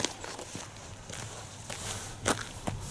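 A person's footsteps walk outdoors across rough ground, a steady run of soft crunching steps with one louder scuff near the end, heard against faint background noise.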